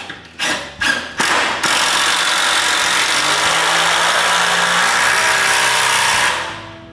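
Power drill driving 6-inch screws to fix a wooden rack to a wall: three short loud drill bursts, then one long sustained whine of the drill running, loud and close, ending as it winds down.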